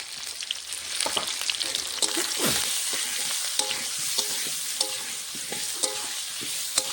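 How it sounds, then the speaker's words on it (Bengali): Cut, washed potatoes fry in a pan with salt and a little turmeric, a steady close sizzle broken by the repeated scrape and clatter of stirring throughout. "ভালো করে ভেজে নেব।"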